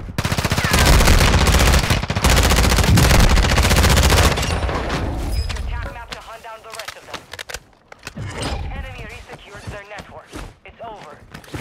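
Loud, rapid automatic gunfire rattles through a Call of Duty: Modern Warfare II match for several seconds, then drops to scattered shots and game sounds while players talk.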